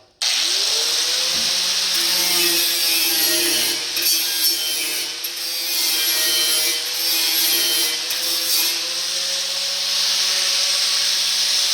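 A power tool trims sheet metal on a 1948 Chevy truck, a steady sustained whine and grind running continuously for several seconds with slight dips in pitch as the load changes.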